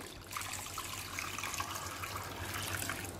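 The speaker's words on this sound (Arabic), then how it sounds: "هنضيف عليها ميه عاديه من ميه الحنفيه" Tap water runs into a bowl holding salt and apple cider vinegar for thawing frozen chicken, a steady, fairly quiet trickling stream that continues throughout without a break.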